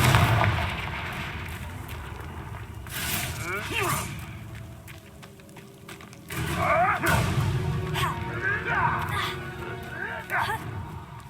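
Confringo explosive spell blasts in the Hogwarts Legacy video game, several loud bursts booming out among clashing combat effects, with character voices shouting over the fighting.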